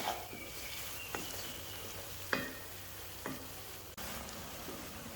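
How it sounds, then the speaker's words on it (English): Cumin, turmeric and black pepper sauté briefly in a pan, giving a soft, steady sizzle broken by a few sharp stirring scrapes and taps, fairly quiet and close. "Now we're going to saute it for about 15 seconds"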